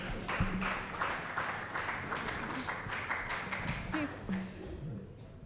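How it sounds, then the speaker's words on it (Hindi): An audience at an awards night open-mic event applauds a woman coming to the stage, a steady patter of claps underneath a speaking voice, tapering off at the end. "जोरदार तालियां मैम के लिए प्लीज।"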